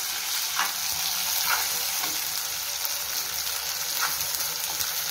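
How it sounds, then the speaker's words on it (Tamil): Tomatoes sautéing in a hot pan for kothu chapathi make a dense, continuous sizzle. Several soft scrapes of stirring come through, and no one talks. "தக்காளி போட்டு நல்லா வதக்குறாங்க."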